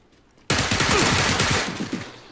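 Gunfire aimed at the player in a video game, a sudden loud burst of rapid automatic shots that runs for about a second and a half before tailing off, heard close.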